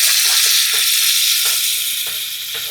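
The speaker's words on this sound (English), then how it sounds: "we are cooking the meat now" Meat sizzles and crackles steadily in a hot pan while being cooked for spaghetti, with recurring scraping stir strokes every half second or so; close and loud, with no voices.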